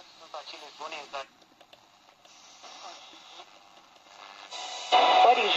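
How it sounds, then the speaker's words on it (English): A SELGA-404 radio, modified, tuned to a medium wave station: faint, hissy broadcast voices drift in and out through noise, ending in a louder burst of static. "radio is able to receive some stations in medium waves."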